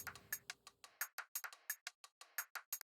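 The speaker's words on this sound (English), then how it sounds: "this one was made out of various percussion samples I found in Audio Tools" A percussion loop built from assorted samples ticks along in a steady, quick pattern of bright, clicky metallic hits, each sharply attacked and quickly decaying, with a faint low bed fading out in the first second.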